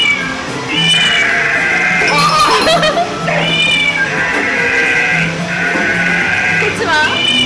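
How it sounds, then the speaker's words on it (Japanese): Electronic sheep bleats from an animal-sound play station at an indoor children's playground, loud wavering calls repeating several times across the span, with other recorded animal cries mixed in and faint voices in the background. "次は羊。"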